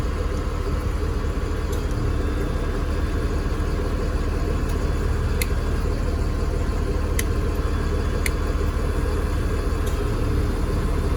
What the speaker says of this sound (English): I can hear the motor slow down, so the compressor, the AC compressor is running.